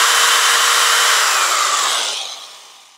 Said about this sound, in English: Let's start off with a small pilot hole first.